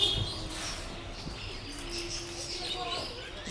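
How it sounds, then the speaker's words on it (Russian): Pigeons coo among other birds at an aviary in La Laguna, Tenerife, soft low cooing and a few faint chirps against quiet outdoor ambience. "Голуби."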